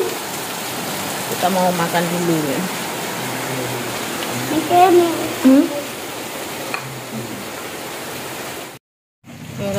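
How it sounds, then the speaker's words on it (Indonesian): Heavy morning rain hisses steadily in the background while people talk close by, with the downpour continuing beneath their voices. "Tuh hujan lebat banget ya."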